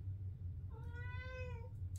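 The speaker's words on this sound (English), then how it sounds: "Got a very noisy kitty that heard me talking, and now he wants to see what's up." A cat gives a single clear, drawn-out meow over a low, steady hum. It is fairly close and no one talks.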